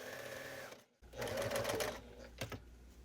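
A sewing machine stitching a pumpkin trick or treat bag, a short close burst of rapid whirring stitches after a brief pause, with a couple of clicks and light handling noise at the end.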